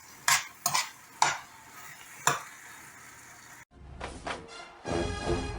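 Okra fries in a skillet and gets turned, with several sharp scraping stirs first, then a quiet pause, followed by a louder sizzling hiss as the pieces are moved around.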